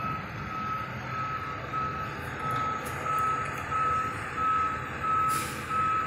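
A fire department ladder truck backs out of its station, its reversing alarm sounding a loud, steady series of evenly spaced beeps over a low diesel engine rumble, with a brief hiss near the end.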